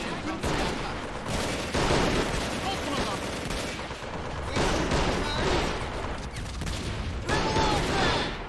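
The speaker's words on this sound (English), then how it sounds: "artillery fire incoming" Artillery barrage in Men of War: Assault Squad, a Stalingrad 1942 battle, with dense overlapping blasts and rolling gunfire filling the whole stretch, loud and continuous, with a voice talking underneath.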